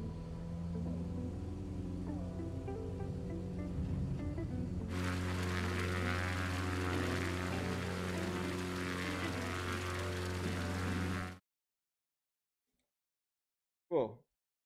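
A Cessna engine in a flight simulator game powers up, a steady harmonic propeller drone that grows louder and brighter midway, then cuts off abruptly into silence before a brief short sound near the end.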